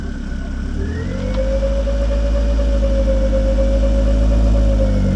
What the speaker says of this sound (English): Waiting for the turbo to spool up.